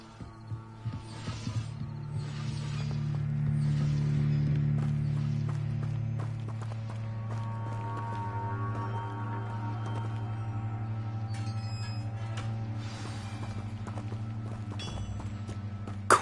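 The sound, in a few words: horse-drawn carts moving in a video game, Hogwarts Legacy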